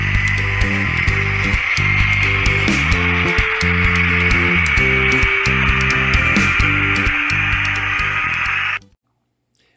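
Wooden risers for a model railway track are rubbed and trimmed flat by hand, giving a steady close scraping and rasping for about nine seconds with a low hum beneath before it stops abruptly.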